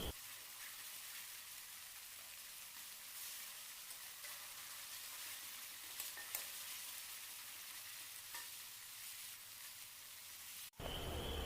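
Ginger and garlic paste sizzles and spits loudly in hot oil while Bengali kabuli chana ghugni is cooked, a steady close frying hiss that carries on without a break before cutting off abruptly near the end.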